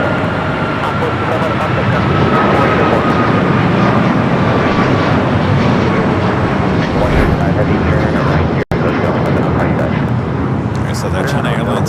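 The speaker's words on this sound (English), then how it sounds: "that's flight coming from London Heathrow, 787-9 Dreamliner. Your next heavy arrival here on the south side" A Boeing 787-9 Dreamliner arriving from London Heathrow rumbles as a broad, steady roar on LAX's south side, heard at a distance with air traffic radio chatter over it.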